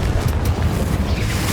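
A Confringo blasting spell explodes in the Hogwarts Legacy video game, a dense, loud rumbling boom with heavy low-end energy that holds steady through the whole short burst, with no voices.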